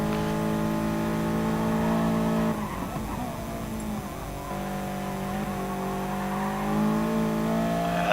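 Race car engine in a sim racing game at Bathurst, a steady high droning whine held flat out, dipping and wavering briefly mid-run before settling back into a sustained roar.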